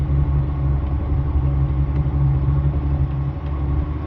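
A boat's inboard engine runs at cruising speed, about 1800 RPM, moving at six miles per hour, giving a steady, close, low droning rumble with an even pulse and no talking.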